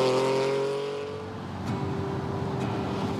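A Lamborghini Countach V12 engine runs loud and close, a steady rich drone that dips slightly and then rises again, with no one speaking.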